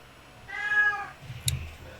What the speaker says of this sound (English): There's also a cat in the second drawer, apparently.